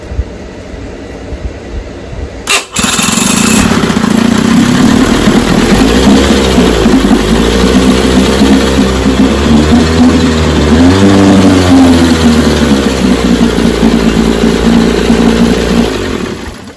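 An 18 HP Evinrude outboard motor catches with a sharp pull-start burst and then runs loud and close, a steady roaring drone whose pitch wavers as it revs up and down.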